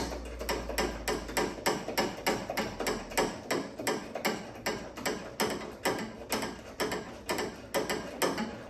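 A hand ratchet tightens a fitting on a race car, its close, crisp clicks repeating in a fast, even rhythm throughout with a brief pause partway.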